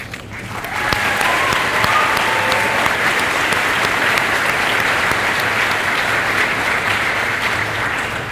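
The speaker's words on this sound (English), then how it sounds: "please hold your applause to the end of each group" Audience at a high school awards ceremony applauding a group of award recipients, a loud, steady wash of clapping from a large crowd held for several seconds.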